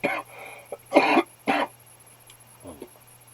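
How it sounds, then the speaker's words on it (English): A few harsh throat-clearing bursts close by, two strong rasping pulses in quick succession with lighter ones before and after, over a low steady hum. "I just had to clear my throat"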